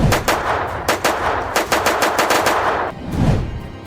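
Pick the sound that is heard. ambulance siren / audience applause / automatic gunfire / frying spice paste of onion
automatic gunfire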